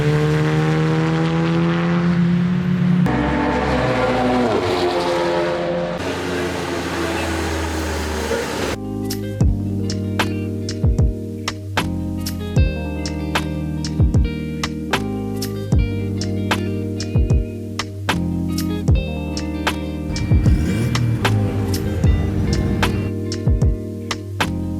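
A pair of Seat Leon TCR touring race cars runs at a Donington Park track day, producing a sustained, buzzing engine drone that shifts pitch through gear changes, with sharp repeated clicks and pops over the steady roar.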